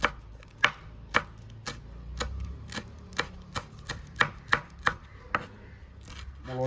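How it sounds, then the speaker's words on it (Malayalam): Six green chillies are finely chopped with a knife on a board, producing a run of crisp, distinct chops at an uneven, fairly quick pace, close and alone without any talk. "ഈ പച്ചമുളക് നമുക്ക് കുരുന്ന് അരിയാം."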